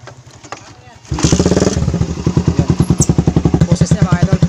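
A carbureted Suzuki Raider 150 motorcycle fitted with a rapid backfire exhaust starts up loud and close, then settles into a choppy idle of rapid, evenly spaced popping pulses.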